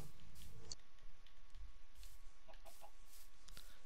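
Soft, fairly distant chicken clucking from Minecraft, a few short bursts over a quiet low background with no voices.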